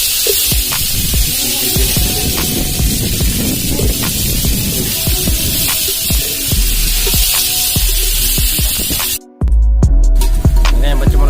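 Onions and green chillies fry in a pan, a loud, continuous crackling sizzle heard close up, with a brief drop-out near the end.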